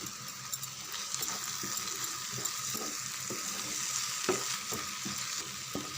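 Egg gravy sautéing in oil with green chillies and curry leaves gives a continuous frying sizzle, with a spoon scraping and stirring through it in a loose, repeated rhythm.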